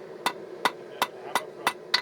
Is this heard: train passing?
no